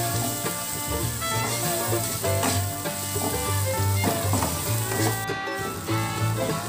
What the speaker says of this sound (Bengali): আমি 2 মিনিট ধরে ভালো করে মশলাটা ভেজে নিয়েছি।